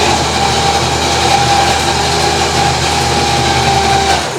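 Electric motor driving a worktop upward inside a KTM heavy camper truck, a steady whining hum with a constant pitch, loud and close, running alone for several seconds before easing off at the end.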